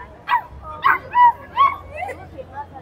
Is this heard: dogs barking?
yes